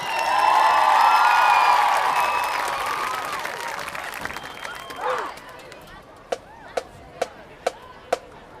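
A large crowd claps and cheers for a high school marching band at a football game. The applause is loud at first, thins out over several seconds, and ends with a few sharp, spaced claps.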